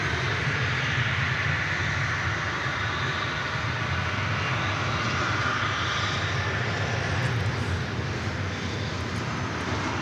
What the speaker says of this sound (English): This cute little 757 kind of snuck in on us. It's UPS flight 2348